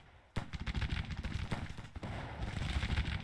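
Troops fire in Grand Tactician, a Civil War strategy game: a sudden loud volley opens, then a rolling, dense crackle of musketry goes on throughout, with a second sharp burst midway.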